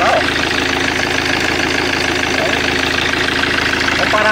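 A 2011 Fiat Ducato diesel engine, just repaired after trouble starting from cold, idles loud and close with a steady, even low rumble and a fine mechanical clatter running throughout.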